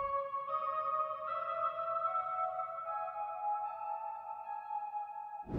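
Soft bell-like synth notes made in FL Studio drift in a slow melody, smeared by a reverb with a very long decay time that makes them sound distant and washed out.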